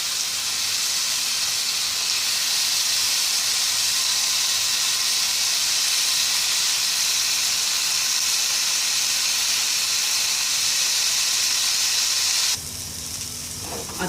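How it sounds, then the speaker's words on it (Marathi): Paneer and soya chunks fry in a pan with a continuous loud hiss for most of the stretch, easing to a quieter, rougher sizzle near the end; no one speaks. "अशा पद्धतीने आपण दुसरे पण परतून घेऊया."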